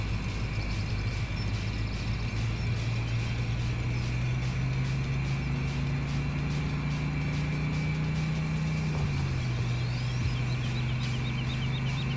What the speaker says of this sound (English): It's got a real 350 V8 sound to it